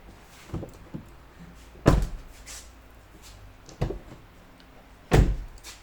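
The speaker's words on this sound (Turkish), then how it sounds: "Kapı kilit tamirimiz tamamlanmıştır." A Mercedes W212 car door lock is tried after repair: three loud latching clunks and slams spaced a couple of seconds apart, with lighter clicks of the handle and mechanism in between.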